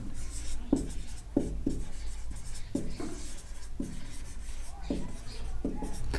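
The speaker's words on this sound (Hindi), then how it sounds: "तो पहले मैं यहाँ पे लिख लेता हूँ" Pen or pencil writing labels on paper for an orthographic and isometric projection engineering drawing, with soft scratchy strokes coming in short repeated bursts, close by over a steady low background hum.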